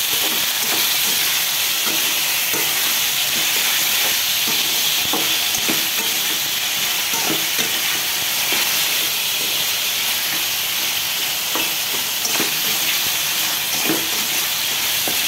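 Quartered onion petals and slit green chilies fry in hot oil while being stirred, a steady loud hiss and sizzle broken by regular scraping clicks of the spatula, with no voices.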